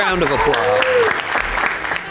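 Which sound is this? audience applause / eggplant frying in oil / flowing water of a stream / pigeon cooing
audience applause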